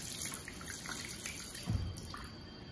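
A dental impression is rinsed under running tap water, a quiet steady trickle with scattered drips and one fuller splash partway through, no speech.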